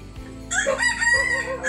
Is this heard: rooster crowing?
yes